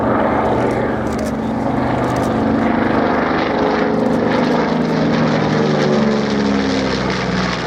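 RAF Mitchell twin-propeller bomber flying at the Shoreham airshow, a loud, steady piston-engine drone with a throbbing propeller beat that swells slightly as it passes, no talk.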